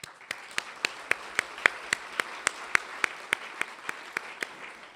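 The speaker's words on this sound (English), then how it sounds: "please help me give them a round of applause for all their work" A symposium audience gives a short round of applause, heard as a sparse, evenly paced run of distinct claps at moderate loudness, with no talking over it.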